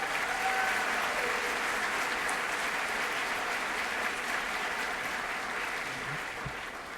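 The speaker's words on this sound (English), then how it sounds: "let's give them a round of applause" Sustained applause from an audience honoring long-serving employees at a service day event, an even, continuous roar of clapping that softens slightly near the end.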